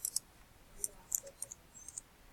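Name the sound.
typing a search on a computer keyboard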